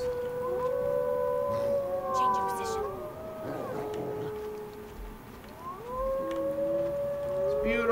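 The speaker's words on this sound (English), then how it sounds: "Ooh, I love hearing the wolves." Several wolves howling in Far Cry 5, long overlapping rising and falling howls layered over game ambience, loud and sustained throughout.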